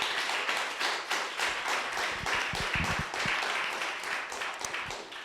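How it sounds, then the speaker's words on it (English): Audience applauding the speakers at the close of a conversation event, a full round of clapping from a seated crowd, sustained for several seconds and tapering slightly at the end. "I just want to give you a round of applause"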